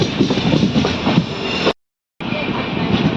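The Goa Sampark Kranti Express pulling into the platform at Thivim station gives a loud, steady rumble with rhythmic rail clatter, close and continuous apart from a half-second gap of silence.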